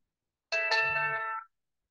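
A phone gives off a bright electronic chime: two quick bell-like strikes merge into a sustained ringing tone that lasts about a second before it cuts off cleanly in a quiet room.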